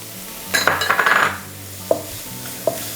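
Onion, tomato and green peas sautéing in a pan, with a quick burst of stirring and spatula scrapes against the metal, then a soft sizzle broken by two sharp clinks.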